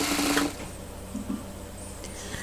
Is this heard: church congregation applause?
no